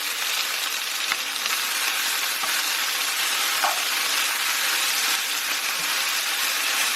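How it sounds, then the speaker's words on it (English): Beef searing for a beef and cabbage stir-fry makes a loud, even, hissing sizzle in a hot pan, with a few faint clicks of stirring and no speech. "that beef looks like it's starting to brown on the other side, so let's give it a mix"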